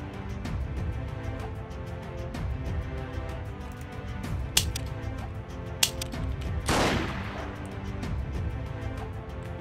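Suppressed gunfire in the guerrilla warfare game Freeman: Guerrilla Warfare, a few sharp muffled shots standing out over a dense, steady mix of battle and ambient game noise, with a brief hissing burst near the end.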